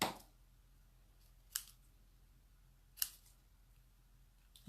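Scissors trim the ribbon ends of a bow on a handmade Christmas card, three or four crisp, quiet snips spaced over a few seconds against a soft room hum.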